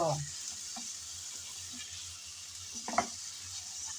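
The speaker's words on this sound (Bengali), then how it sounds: "আলুগুলো দিয়ে দিলাম পেঁয়াজের সাথে একসাথে একটু ভেজে নেব" Potatoes and onions frying together in a pan, a steady hissing sizzle throughout with occasional stirring scrapes, close and moderately loud.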